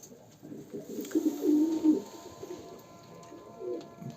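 Racing homing pigeons give soft, low cooing calls in a loose series, fairly close, with a fuller burst in the middle and quiet room noise around them.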